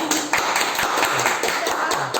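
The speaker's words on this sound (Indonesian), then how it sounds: "tepuk tangan untuk anak" Classroom of students clapping for classmates during an Islamic history lesson, a short burst of scattered, uneven hand claps with a few voices mixed in.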